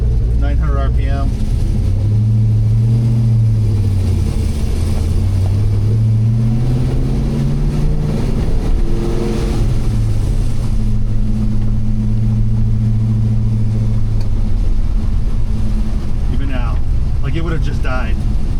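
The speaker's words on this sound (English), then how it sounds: "When I let off the gas, it comes down to an idle." A car engine fitted with a Holley Terminator X Max fuel injection system settles down from revs to a slightly high idle, a loud, steady low rumble with someone talking over it.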